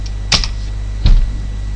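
A password is typed on a computer keyboard, two distinct key clacks about a second apart, close and fairly sharp over a low steady hum, with no talk.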